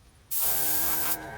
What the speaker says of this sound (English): Make sure you always clear your airbrush, because you never know what color's coming out of the thing